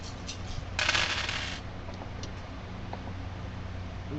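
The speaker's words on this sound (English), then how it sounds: "That sounded like a lot of dice." A handful of tabletop dice tumbling onto a table during a tabletop roleplaying game session, one brief clattering burst of many small hard rattles, quiet and close, followed by a few scattered ticks as they settle.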